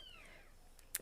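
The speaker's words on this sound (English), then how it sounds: "I named that kitten R2 because he squeals, but he makes noises like R2-D2 fell over" A kitten gives a high, sliding squeal that glides downward and fades, followed by a short, sharp chirp near the end; faint and close, with no talking.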